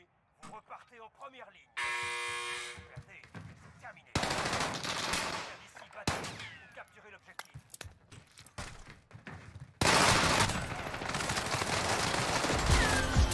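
Video game gunfire aimed at a barrel bursts out in loud rapid automatic volleys and buzzing electronic effects, several separate bursts of varying length, layered over excited talk from players.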